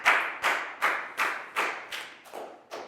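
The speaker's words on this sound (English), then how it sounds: "Big round of applause for Pangpon, guys." A few hands clapping for a student in a classroom English lesson, eight evenly spaced sharp claps in a steady rhythm, close and clear with no talk.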